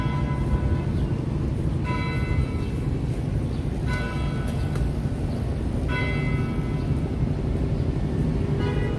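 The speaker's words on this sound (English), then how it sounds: "it kind of didn't even sound like a bell. It sounded more like someone was hitting the rail or something" A bell in New York City rings out at six o'clock in repeated metallic clangs spaced about two seconds apart, harsh like a struck rail, over heavy rumbling city and weather noise.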